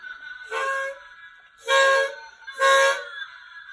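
A toy whistle blown three times, each a reedy, train-like toot lasting under a second, the last two louder, with short silences between.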